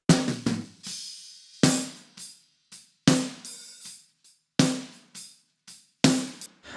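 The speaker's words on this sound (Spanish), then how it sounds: "Vamos a sacarle la reverb para que escuchen únicamente el sonido del redoblante." Dry snare drum with no reverb, struck in a loose repeating pattern of sharp hits and softer ghost strokes, each hit cut short with little tail, close and clear with no talking.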